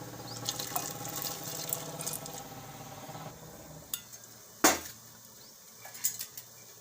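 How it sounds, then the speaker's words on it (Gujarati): Lentils are washed in water in a metal vessel, with soft splashing and sloshing followed by a sudden sharp clatter of metal and a few light clinks, faint and close. "તો દાળને આપણે ધોઈ લેવું"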